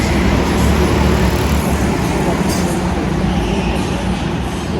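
Several go-karts racing together on a track make a loud, continuous engine roar that fills the whole stretch without pause, with no voices.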